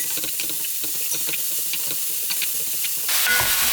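Carrots sizzle and hiss in a hot pan as they stir-fry, a steady crackle with scraping stir sounds, growing to a louder steamy rush near the end.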